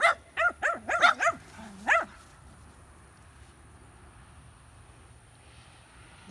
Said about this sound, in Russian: Соседские собаки нападают на моего.